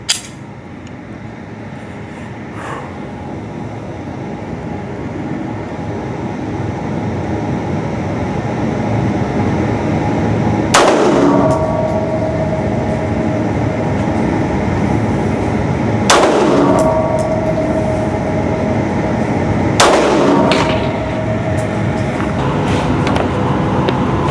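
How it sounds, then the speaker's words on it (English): Single shots from 2011-style pistols at an outdoor range, three loud sharp reports spaced several seconds apart over a steady background rumble. "so 3 rounds at the left square."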